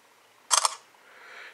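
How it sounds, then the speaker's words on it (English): A quick double-click Samsung Galaxy smartphone camera shutter snaps once, close and crisp, against a quiet background hiss. "this is the shutter button right here"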